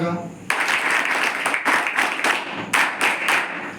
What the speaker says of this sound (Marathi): आपल्या आईसाठी वाजवा.